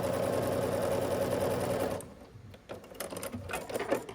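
Sewing machine stitching quilt triangles along a quarter-inch seam, a close, loud steady whirring run that stops after two seconds, followed by soft handling clicks and rustles.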